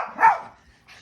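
A dog gives a single sharp bark close by during a play fight between dogs, followed by a quieter pause and a faint rustle.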